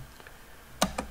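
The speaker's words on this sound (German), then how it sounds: "Ihr tippt ein" Keys tapped on a notebook keyboard while entering a Linux terminal command, two quick, close click bursts near the end of an otherwise quiet stretch.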